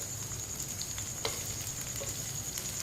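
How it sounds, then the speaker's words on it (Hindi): Okra (bhindi) fries in a pan with a steady, fairly quiet sizzle and occasional light clicks from a spoon stirring it. "भिंडी को 3-4 मिनट के लिए पका लेंगे।"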